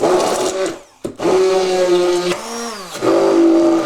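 Electric hand mixer beating a cake batter of eggs and sugar for a Battenberg cake, a steady close whirring drone that cuts out briefly and starts again, with a slight shift in pitch near the end.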